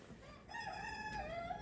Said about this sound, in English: There's roosters crowing.